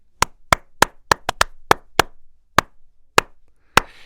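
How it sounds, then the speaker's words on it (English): Single hand claps ring out inside a homemade vocal booth with the door shut, about a dozen sharp, isolated slaps with brief, damped tails, spaced irregularly in near silence, followed by a faint rustle. "I clap again."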